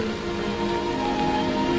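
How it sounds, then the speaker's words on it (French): Steady rain falls in a dense, even hiss with no break, near and fairly loud, its texture broad and unvaried, alone with no voices. "Il pleut."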